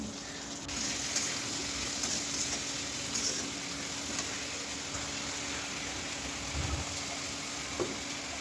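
Bitter gourd fries in a pan, giving a steady, even sizzle that holds throughout with a faint low hum underneath and no voices.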